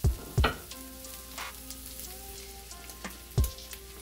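Garlic cloves fry in a pan over turned-down heat, a gentle crackling sizzle with a few sharp knocks of a utensil against the pan.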